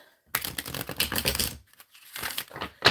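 Tarot cards are shuffled by hand in two bursts of rapid, crisp flicking and riffling, close and fairly loud, separated by a short pause.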